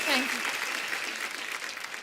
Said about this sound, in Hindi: एक बार जोरदार तालियां कृति के लिए।